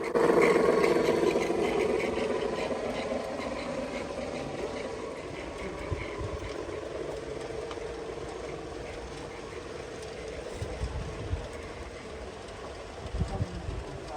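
A G scale model coal train locomotive runs along a garden railroad at an arboretum, giving a steady mechanical rumble with rolling wheel noise that holds at moderate loudness throughout, with a few soft knocks near the end.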